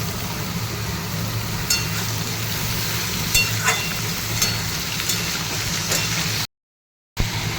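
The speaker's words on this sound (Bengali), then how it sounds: "এবার পোস্ত আর আলুগুলো এরকম লাল লাল করে ভেজে নিচ্ছি" Poppy seeds and potatoes fry in a pan, giving a steady close sizzle with a few soft stirring scrapes. The sound cuts out briefly near the end.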